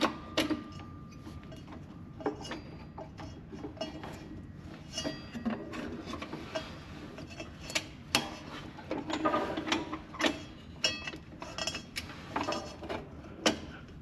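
Metal parts being tightened during assembly of an Ariens snowblower, with repeated clanks, ratcheting clicks and tool knocks close by over a steady low mechanical background.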